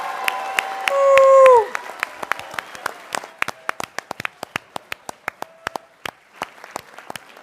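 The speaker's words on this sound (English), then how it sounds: "Round of a big applause." Scattered clapping at a board of education meeting honoring students, sparse individual claps that thin out over several seconds, with a brief spoken word and a short tonal sound near the start.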